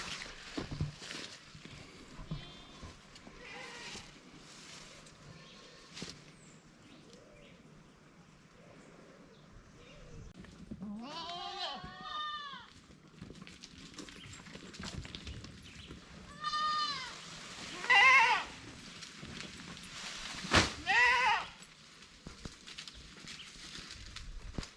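Goats on a farm in Jamaica bleat several times, some calls near and loud and others fainter, over a quiet outdoor background with scattered shuffling.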